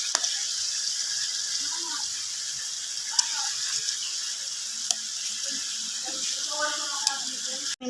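Chicken pieces for adobo are half-cooked in a hot pan, giving a continuous bright sizzle with occasional clinks and scraping stirs, and a few faint voices in the background.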